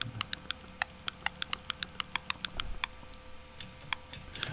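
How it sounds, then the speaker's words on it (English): Computer keyboard keys are pressed in a quick irregular run of sharp clicks, close and distinct, tapering to a few scattered presses against a low room hum. "Oh, so I can press my keyboard or my mouse."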